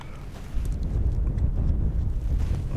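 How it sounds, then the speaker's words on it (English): Strong wind buffets the open ice on a lake during ice fishing, a low, gusty rumble against the microphone that strengthens after a moment and keeps churning steadily. "It's really windy out here today."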